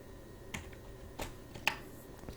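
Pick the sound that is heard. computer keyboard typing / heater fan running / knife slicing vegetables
computer keyboard typing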